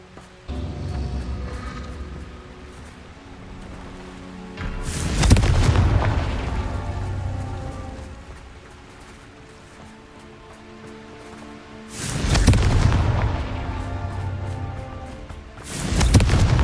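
Confringo blasting spell explosions in the video game Hogwarts Legacy: three loud booming blasts at roughly six-second intervals, each a sharp burst with a rumbling tail, over a steady low musical background.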